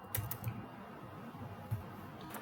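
Several keystrokes tap on a computer keyboard nearby, a brief run of light irregular clicks over a quiet room hum, with no speech.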